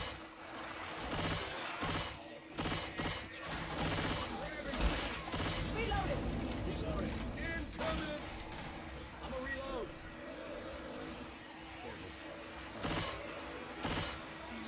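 Rapid bursts of gunfire in Left 4 Dead 2 on the Swamp Fever campaign's Plank Country map, shots cracking repeatedly and irregularly across the whole stretch while players talk over them.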